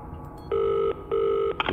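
Telephone tones from a video game, two long steady electronic beeps with a pause between, clear and alone with a short click at the end.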